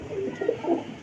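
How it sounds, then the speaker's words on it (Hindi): Soft, low pigeon coos, a short murmuring burst heard close by. "ये हमारा लाल परी कबूतर है मुबशर भाई के घर का"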